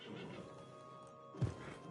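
A horse in Red Dead Redemption 2 gives a short, loud whinny near the end of a quiet stretch of low ambient hum, with no talking.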